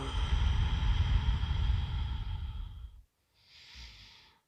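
A long, steady exhale through the nose or mouth during a morning yoga flow, close and soft, trailing off into quiet before a faint second breath.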